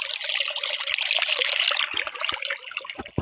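Water trickling and dribbling steadily, a close bright splashing stream with a few distinct drips landing near the end, heard alone without talk.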